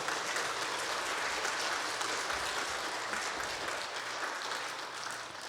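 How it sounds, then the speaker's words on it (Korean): A church congregation applauds at a Sunday worship service, producing dense, sustained clapping that fills the room at even loudness and tapers slightly toward the end. "다시 한번 박수 부탁드리겠습니다"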